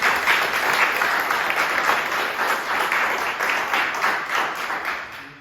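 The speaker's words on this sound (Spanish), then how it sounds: "¿Le puede dar un aplauso a Jesús?" A church congregation applauds together during a sermon, steady dense clapping that fills the hall for several seconds before tapering off at the end.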